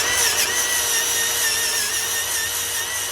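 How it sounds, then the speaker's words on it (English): A power tool strips paint off an alternator bracket on an old Oldsmobile Cutlass truck, a steady high-pitched whine with a grinding buzz, close and continuous for the whole stretch, with no talk. "So I'm cleaning the paint off this bracket to"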